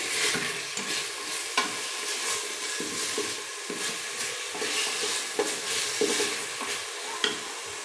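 Salted chicken momo filling being stirred in a hot pan: a bright frying sizzle broken by repeated spatula scrapes and knocks at an uneven rhythm, near and moderately loud, no talking.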